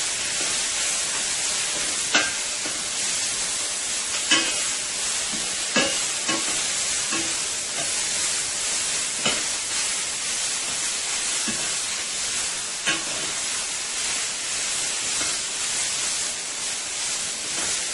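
Onions with a little garlic sauce sizzling in a hot pan as they are tossed and caramelized, a loud steady hiss punctuated by regular scraping knocks of stirring every second or two, close and without talk.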